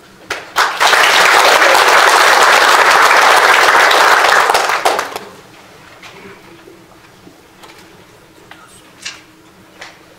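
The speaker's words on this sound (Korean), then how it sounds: "이 정도로 소개는 마치고 우리 정 박사님을 위해서 환영의 박수를" Welcoming applause from a seminar audience for a keynote speaker at a Korean conference on the Buddhist monk soldiers of Geumsan in the Imjin War. A loud, dense burst of many hands runs about four seconds, then cuts off to a quiet room with scattered small noises.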